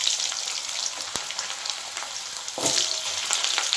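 Cut potatoes frying in hot oil with chilli and cumin, giving a steady, close sizzle with faint stirring scrapes and a brief louder crackle partway through.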